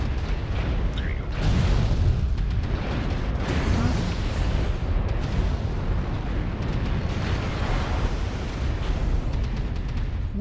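Missile strikes pound a mech in MechWarrior Online, a dense, continuous roar of explosions and booming impacts that runs without a break. Loud thumps stand out near the start and the middle.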